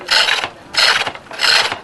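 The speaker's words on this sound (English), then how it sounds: "you can hear a change in the note of the chisel" A chisel cuts wood turning on a pole lathe in three loud, close, rasping strokes of about half a second each, evenly spaced with short pauses between them and no talking.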